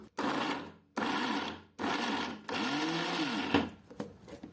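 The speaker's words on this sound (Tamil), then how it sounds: "இப்போ மூடி அரைச்சிட்டு வந்துடலாம் இப்போ இதை அரைச்சிக்கலாம்" A small mixer grinder jar runs in several loud bursts separated by brief pauses, its motor whirring and shifting pitch as it grinds.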